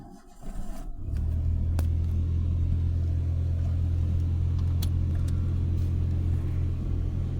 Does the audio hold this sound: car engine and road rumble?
yes